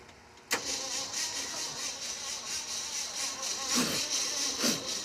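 A Ford Ranger engine cranks in a steady repeated churn that starts abruptly and runs without pause, with a couple of louder surges near the end.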